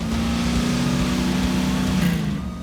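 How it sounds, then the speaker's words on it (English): A car engine revs steadily and loudly with a droning hum that swells slightly, then eases off toward the end. "An engine is revving."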